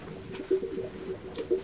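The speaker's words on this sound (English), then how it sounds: "As much as I would love lots of pigeons." Pigeons cooing in an overcrowded run, soft repeated low coos in a gentle rhythm, fairly close but quiet, with faint rustling between calls and no talk.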